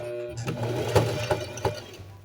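A domestic sewing machine stitches elastic onto cotton panties, a short close run of rapid mechanical chatter with a low motor hum and a few louder needle thumps.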